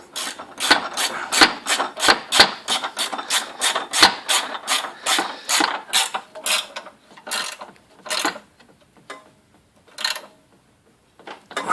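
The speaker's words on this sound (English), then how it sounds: "Hang on a minute, I'll get the ratchet spanner. I'll make short work of this." Ratchet spanner clicking as it undoes a stiff sway bar bolt, a close, loud run of rapid ratcheting bursts in uneven strokes that slow and space out toward the end, with no talk.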